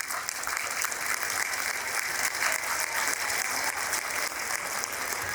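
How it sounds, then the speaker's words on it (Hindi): An audience at a National Voters Day event breaks into sustained, even applause, a dense wash of clapping that holds steady throughout at moderate loudness. "जोर से ताली बजाइए"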